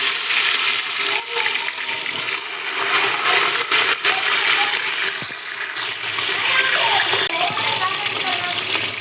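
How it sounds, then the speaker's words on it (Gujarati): Vegetables go into hot oil in a pan, a loud, close, continuous hiss and sizzle of frying that stays steady throughout. "તો ચાલો એમાં શાકભાજી નાખી દઈ."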